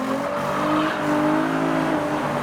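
A Mitsubishi Evo leaving a car show accelerates hard with a rising, strained engine note and tyre squeal, loud and close, its pitch climbing across the pull.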